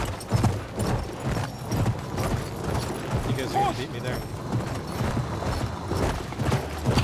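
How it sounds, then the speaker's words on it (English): Horse hooves clip-clop at a gallop in Battlefield 1 on the Sinai Desert map, a rhythmic thudding under continuous talk between players, with distant gunfire and game effects mixed in. "Horses are actually pretty fast."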